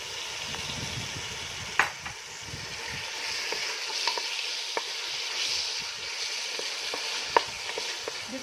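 Chicken breast sizzles and fries with softened tomato in a hot pan, a steady crackling hiss with sharp utensil clicks and stirring scrapes, close and continuous with no talk.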